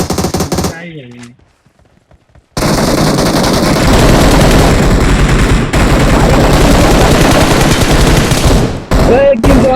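Loud, sustained automatic gunfire in the mobile shooter BGMI, a dense rapid rattle of shots running continuously for several seconds after a brief quiet moment, with a short voice near the start.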